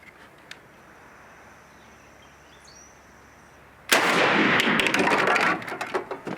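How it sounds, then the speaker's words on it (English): A shotgun on a lead sled fires a single 3.5-inch Federal TSS turkey shell loaded with 5, 6 and 7 shot: a sudden loud blast after quiet outdoor ambience, followed by a couple of seconds of rolling, fading report. "Now we're going to be shooting the Federal TSS."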